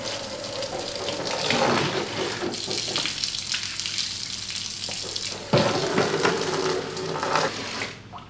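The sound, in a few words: splashing water from a tub onto floor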